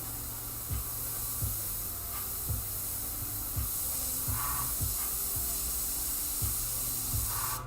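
An airbrush sprays paint onto a Joker panel with a steady, continuous hiss, punctuated by soft regular clicks as the trigger is worked, close by and with no talking.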